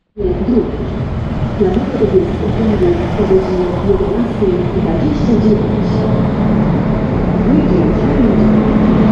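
A Pesa Link diesel passenger train rumbles in and slows alongside, with a low droning engine and squealing tonal whines from the wheels, fairly loud and close throughout.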